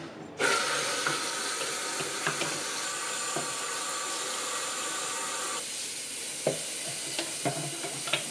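A kitchen sink tap is turned on and runs in a loud, steady gush as a paint sprayer nozzle is rinsed under it, with a few small clinks and knocks of the part against the basin.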